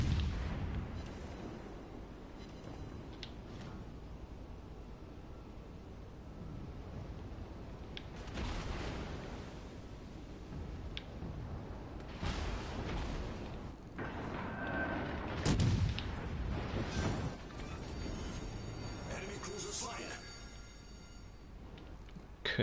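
Warship guns in a naval video game fire high-explosive shells, with heavy booms and blasts scattered irregularly over a continuous low rumble, some sharp and near, others more distant.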